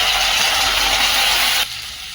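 Curry leaves hit hot oil with a loud, dense crackling sizzle that drops abruptly in volume near the end.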